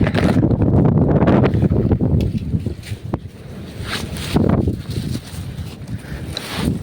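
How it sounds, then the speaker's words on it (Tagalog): Strong gusts of sea wind buffet a small fishing boat out on open water, roaring loud against the microphone in heavy bursts that ease and then surge again, with the churn of water and hull beneath. "Ay, lumakas yung hangin."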